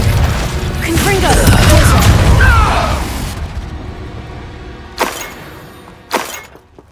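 A Confringo spell explosion in a Harry Potter video game, a loud booming, crashing burst lasting a few seconds before decaying, followed by two sharp shorter impacts.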